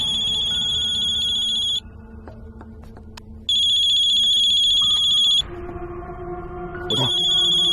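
A mobile phone rings in a horror film, its bright electronic ringtone sounding loudly in repeated bursts that break off and resume, with low ambient sound filling the gaps.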